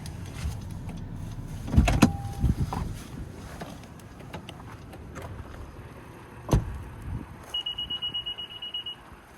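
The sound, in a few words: 2017 Honda Ridgeline warning that key left vehicle proximity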